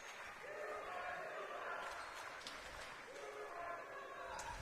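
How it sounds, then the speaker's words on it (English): A cheering section of fans at a boys high school volleyball match in a gym, distant crowd shouts and chants swelling in waves beneath a commentator's steady talk, with a couple of sharp squeaks or bounces. "Sounds like we have a little bit of a cheering section for Saints down here has developed"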